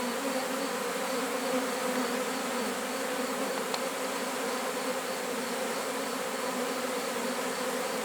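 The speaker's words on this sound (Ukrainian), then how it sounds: "Тепер наче наче і у відро йде бджола." A steady, dense hum of many honeybees buzzing continuously as they enter a bucket hive, a low droning swarm sound with no voices.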